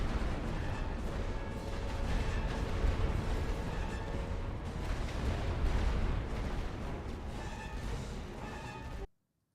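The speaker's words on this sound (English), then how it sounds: "Advance behind the rolling barrage, boys." A rolling artillery barrage in The Great War: Western Front, a continuous low rumble of overlapping distant and near shell impacts and booms, steady and heavy for several seconds before cutting off abruptly.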